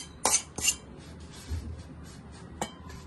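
Roasted coconut is scraped out of a pan onto a wide plate while making methi ladoo, heard as a few bright metallic clinks and short scrapes against quiet room sound.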